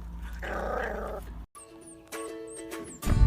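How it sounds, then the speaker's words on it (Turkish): A small white dog growls low and gruffly for about a second, then high squeaky yips and whimpers follow, ending in a sudden loud rustle. "Köpek saldırıyor!"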